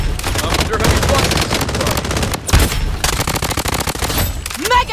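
An FN F2000 rifle in Blood Strike fires loud, close, rapid automatic bursts almost without pause, with other shots and game effects mixed in and a brief voice callout.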